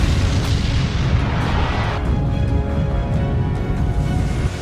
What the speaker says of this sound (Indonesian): The Fall pun terjatuh dan meledak dengan sangat dahsyat.